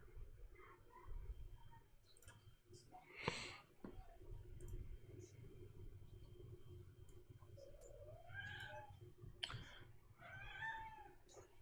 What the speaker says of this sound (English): got a cat in here